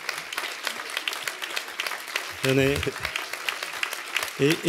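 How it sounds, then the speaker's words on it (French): An audience in a hall keeps applauding at a company event, steady clapping with individual claps audible, while someone speaks over it at intervals. "Continuez d'applaudir s'il vous plaît, parce que Céline traverse la salle"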